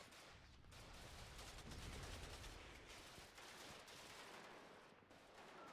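Dense, continuous gunfire crackles in the WARNO strategy game as units shoot at Panzer Infantry, with rapid overlapping shots and distant explosions forming a steady wash of battle noise, no talking.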